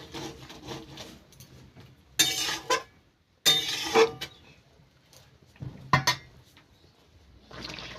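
Cauliflower and potato curry stirred in a pot with a spoon, giving a few loud bursts of scraping and metal clinks separated by quieter simmering gaps, with no voices.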